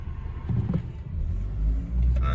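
A Volvo S80 with 140,000 miles idles steadily as a low, smooth engine rumble, close and fairly even, rising slightly toward the end.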